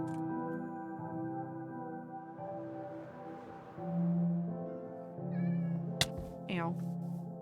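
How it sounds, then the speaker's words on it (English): A Minecraft cat meows in a hardcore survival world, a short mewing call near the end over sustained tonal background sounds and a nearby voice talking. "Cat."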